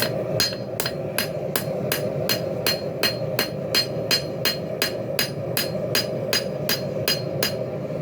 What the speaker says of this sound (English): I'm putting the tapers onto the belly of this blade by ever so easily beating on the edge